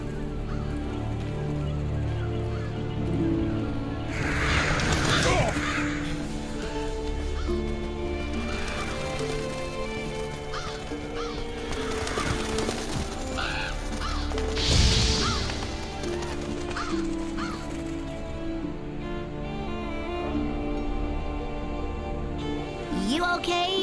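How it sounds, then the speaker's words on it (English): Revolture scavenger birds in the video game Monster Hunter World, a loud and steady flock of harsh cawing and honking calls over constant game ambience and music, with a couple of swelling bursts and no talk. "Seems the black birds are the culprits. Revoltures. They're scavenger birds that enjoy large monsters' leftovers."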